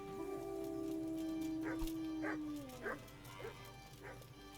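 A dog in the medieval game Kingdom Come: Deliverance gives a long drawn-out whine that slides downward, then a run of four or five sharp barks, moderately close over a low background hum.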